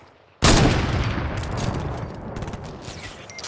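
Fortnite gunfire erupts suddenly after a quiet moment and keeps going as a loud, sustained barrage of rapid shots, fading slightly toward the end.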